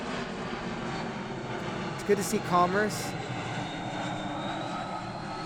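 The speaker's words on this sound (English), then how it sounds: "you can tell it always gets a little busier with the planes flying overhead" Airplanes fly overhead above a park near the flight path, a steady loud engine roar filling the whole span while someone talks briefly over it.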